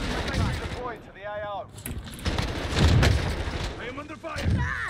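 Call of Duty trailer gunfire, bursts of shots and booms scattered through a dense game mix with music and voices, loud and close throughout.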